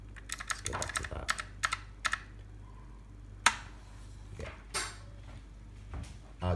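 Keys clatter on a GEEKLIN mechanical gaming keyboard in quick, irregular bursts of sharp clicks separated by short pauses, quiet and close, with no talk.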